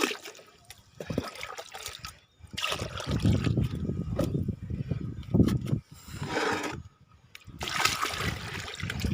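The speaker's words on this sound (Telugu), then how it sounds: "ఇప్పుడు బకెట్ నీళ్ళు అంటే దీన్ని నిండుగా నీళ్ళు పోసేసి" Water poured into a bucket to fill it, heard as several loud, close gushing bursts with short pauses between them, a rough churning splash that rises and falls with each pour.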